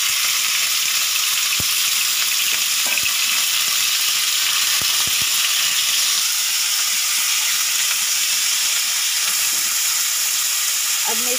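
Chicken pieces frying in an oiled pan while making a chicken cheese pizza, a loud, steady sizzle and hiss throughout, with a few soft clinks of stirring and no talk.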